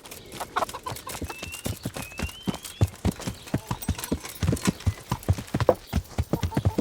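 Steady clip-clop of a horse's hooves in a medieval role-playing game, close and even-paced, with a faint bird call and farmyard ambience behind.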